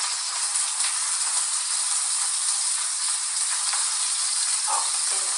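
Saltfish sizzles in a hot pan, a steady bright hiss and crackle filling the clip close up, with a faint clink of stirring near the end and no talking.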